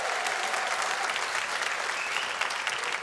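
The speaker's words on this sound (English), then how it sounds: "The applause of people who don't have to live with me there." A comedy club audience applauds, dense steady clapping filling the room at a fairly even level for a few seconds, with no voices on top.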